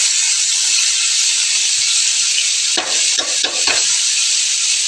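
Fish heads tossed into hot oil in a pan give a steady, loud sizzling hiss throughout, with a few crackling bursts and stirring scrapes near the end.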